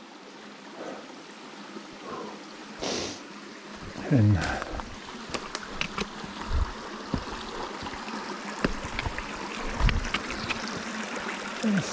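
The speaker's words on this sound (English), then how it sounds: "Here's our next crossing of Spring Creek." Steady broadband rush of Spring Creek flowing at a trail crossing runs throughout, with footsteps and brief splashes or knocks nearby and a short spoken word.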